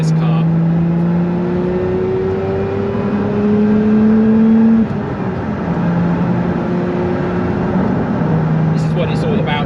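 Lotus Emira sports car driving and accelerating, its engine a loud continuous drone that rises in pitch through the gears, with a short drop at each shift, heard up close from the cabin.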